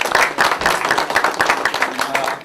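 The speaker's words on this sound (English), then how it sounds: "One more round of applause." An audience at a community affordable housing forum gives a short round of steady clapping, moderately loud and close, with no talk over it.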